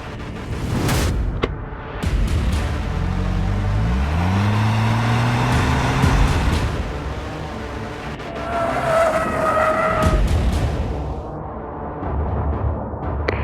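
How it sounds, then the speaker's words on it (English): Toyota Camry Hybrid with stability control off and sport mode on accelerates flat out past the pits on a race track, a steady loud engine drone rising in pitch, with a brief tire squeal or skid early on. "foot flat on the floor as he accelerates past the pits complex"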